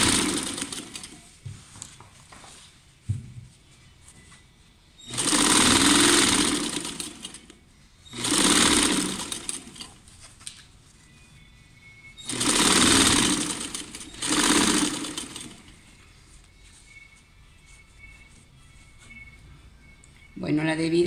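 Sewing machine stitching a jacket zipper seam between the facing and the jacket body, running in four loud bursts of a few seconds each, with quiet handling noise and a voice talking in the gaps.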